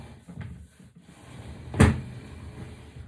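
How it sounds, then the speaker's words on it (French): A piece of furniture is shifted during a tidying and decluttering session, a low rumble and scrape ending in a single sharp wooden knock as it settles into place. "Alors là, j'ai besoin de décaler ce meuble"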